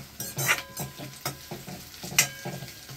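Onions fry in a pan while a spatula stirs them in quick, rhythmic strokes, each scrape standing out over a soft, steady sizzle, with no talking.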